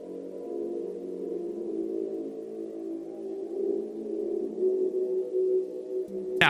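Low, droning sound cue announcing Freddy's arrival in a FNAF fan video game, a steady hum that slowly swells louder over several seconds and ends with a brief burst.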